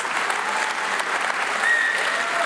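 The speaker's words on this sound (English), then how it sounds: "may I have a very warm round of applause for all the artists, all the singers, all the dancers, all the speakers" An opera evening audience claps warmly for the singers, dancers and speakers, a steady, full round of applause heard alone and close.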